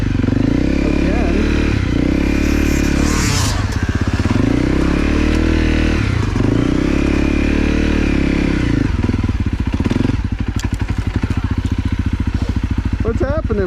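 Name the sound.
motorcycle riding through mud and snow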